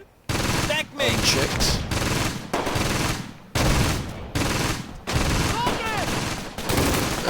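MG42 machine gun fire in the Close Combat: Gateway to Caen wartime strategy video game, with long, loud bursts separated by short pauses and a brief spoken word in between.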